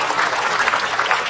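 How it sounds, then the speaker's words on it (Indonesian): A studio audience at an Islamic television talk show claps for Syekh Mas'ud, a brief burst of dense, even hand clapping from many people, loud and close. "Tepuk tangan dulu buat Syekh Mas'ud."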